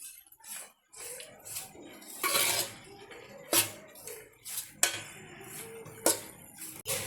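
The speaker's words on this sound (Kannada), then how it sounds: "ಪಾಸ್ತಾನು ಒಗ್ಗರಣೆ ಮಸಾಲೆನ ಚೆನ್ನಾಗಿ ಮಿಕ್ಸ್ ಮಾಡೋಣ ಸ್ನೇಹಿತರೆ." Pasta being stirred with tempering masala in a pan, the spoon scraping and clinking against the metal in irregular strokes, close and fairly quiet, with no talking.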